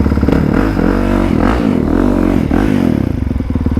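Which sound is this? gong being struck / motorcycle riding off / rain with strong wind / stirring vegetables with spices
motorcycle riding off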